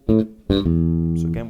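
A few low, ringing bass guitar notes are picked in a short triplet arpeggio starting on A. They play close and clear with sustained tones and no talking.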